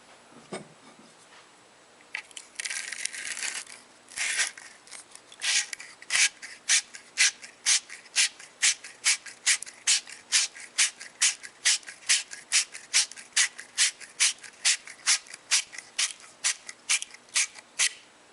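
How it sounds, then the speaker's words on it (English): A wire cleaning brush twisted back and forth over the end of a copper pipe, giving a steady series of close, crisp rasping strokes, about two per second, alone and fairly loud after a brief quieter start. "push the copper pipe cleaning brush down over the end of the pipe with the other hand until it stops, and then turn the cleaning brush clockwise or counterclockwise"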